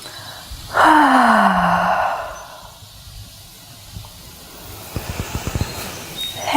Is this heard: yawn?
yes